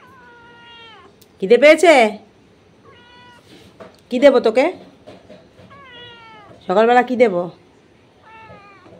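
A house cat meows three times in drawn-out, wavering calls spaced a few seconds apart, close and loud, while someone talks to it softly in between.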